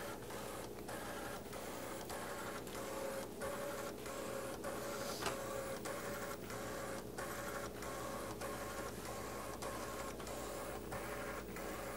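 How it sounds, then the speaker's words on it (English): An HP-150 computer's printer runs steadily with a rapid rhythmic mechanical clatter and regular head passes, close and alone with no voices. "at any time you can print this to the printer"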